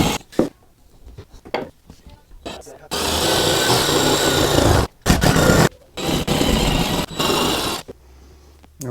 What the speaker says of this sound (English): jigsawing some holes into the ceiling at the moment